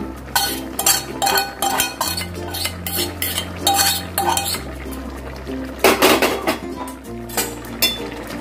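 Ginger paste being stirred into shukto, a Bengali mixed-vegetable dish, in a metal pot: repeated spoon scrapes and clinks against the pot at a steady working rhythm, close and fairly loud, with no one talking.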